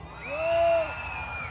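A crowd at the Taste of Manila live event shouts and cheers when called on, a brief swell of massed voices rising and falling under a loud amplified setting.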